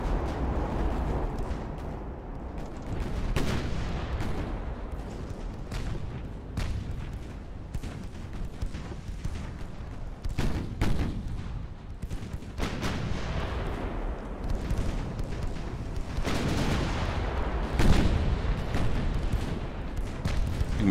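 Warship guns firing during a naval battle in Ultimate Admiral: Dreadnoughts, a continuous barrage of booming artillery shots and blasts that overlap in irregular bursts, loud and sustained with no voices.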